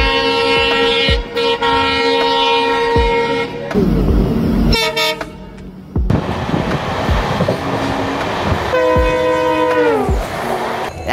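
An express train running from Kolkata to Sairang rumbles loudly nearby. Its horn blows in several long, steady blasts, with clattering wagon noise between them and no voices.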